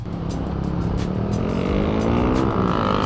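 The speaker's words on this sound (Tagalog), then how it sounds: "buhay na ulit yung makina niya" A Yamaha Fazzio scooter engine runs steadily after restarting from idling stop, a close, continuous hum with rising harmonics, other vehicles faintly around.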